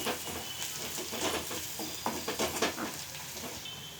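Ginger garlic paste frying with onions and eggs for egg fried rice, a steady close sizzle with scraping stir strokes through the pan, no voices.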